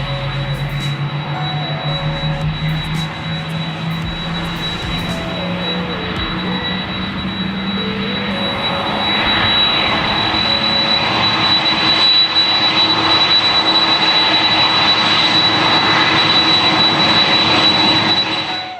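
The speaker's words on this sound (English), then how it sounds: "touches the runway, then it will run for some time on the runway for stopping" Loud roaring jet engine that swells and grows rougher midway, a sustained airplane rumble with a high whine, as a plane lands and brakes along the runway.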